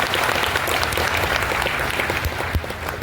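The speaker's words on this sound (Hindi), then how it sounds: "तो जोरदार तालियां बजा लें।" An audience at an Adivasi rights day gathering breaks into loud, sustained clapping, a thick continuous roar of hands with a few sharper claps standing out near the end.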